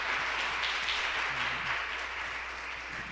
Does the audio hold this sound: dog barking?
no